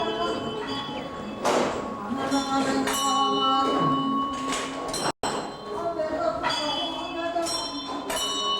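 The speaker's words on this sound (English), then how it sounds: "With each ringing of the bell, the great prayer wheel sends countless blessings throughout the universe." A bell on a great prayer wheel at a Tibetan monastery rings repeatedly, with clear metallic tones ringing out and overlapping, while someone narrates over it.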